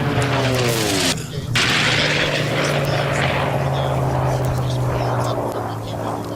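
A Merlin-engined unlimited racing airplane passes at the Reno Air Races, a loud droning propeller and engine roar with shifting pitch as it flies by, under an announcer's speech.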